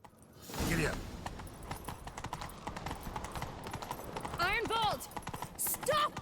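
Horse hooves clip-clopping at a steady run in The Witcher 3: Wild Hunt during a chase, moderately loud throughout, with game character voices calling out over the rhythm.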